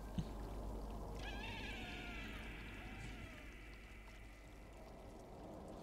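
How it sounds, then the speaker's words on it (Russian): A long, drawn-out meow from a cat in the video game Stray, rising and trailing off over several seconds above a steady low hum and soft rushing background, with no one talking. "А это нас зовут наши котики?"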